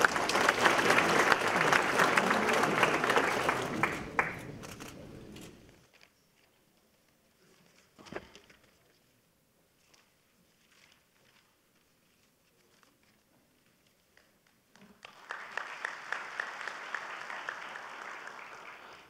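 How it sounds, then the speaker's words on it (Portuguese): Audience applause at an agribusiness event in São Paulo, a loud burst of clapping for about five seconds, then near silence with faint sounds, before clapping swells again at the end. "Luiz Antônio Vizeu, a quem eu peço uma salva de palmas."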